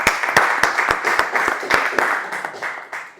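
Applause from a small audience at an impromptu public-speaking session, starting as a handful of distinct, evenly spaced claps and thickening into steadier clapping that fades slightly toward the end.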